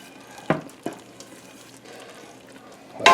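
Bubbling caramel for caramel corn is stirred in a pot, giving soft intermittent scrapes and clicks with a few sharper knocks and a faint sizzling bubble in between, quiet and close.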